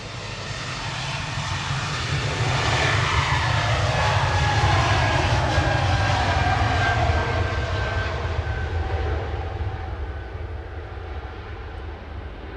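An Embraer E195 jet at Manchester Airport gives a loud, sustained engine roar that swells as it passes and then slowly fades, with no talking.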